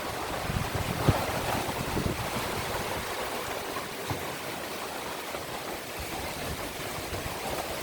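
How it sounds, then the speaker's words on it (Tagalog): Loud, gusty typhoon wind rushes and rumbles against the microphone without pause, a dense roar with occasional thumps and no speech, in Laguna. "Lakas ng hangin dito."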